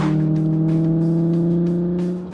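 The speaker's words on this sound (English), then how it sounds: "That's not exhaust noise, that's an actual engine." A classic thoroughbred car's engine runs strong and smooth, with a steady, creamy harmonic drone that holds without a break and eases off slightly at the end, heard close up with no talking.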